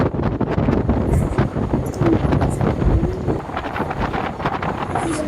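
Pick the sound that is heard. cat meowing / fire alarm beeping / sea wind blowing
sea wind blowing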